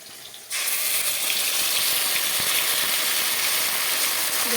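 Whole spices hit hot oil for a katla fish curry, bursting into a sudden loud, steady sizzle that continues close up after a brief quiet moment.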